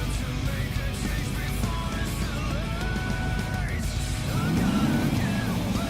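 Race cars in GTA 5 launch from the start of a street race, engines droning loudly and steadily with rising revs near the end, continuous and close.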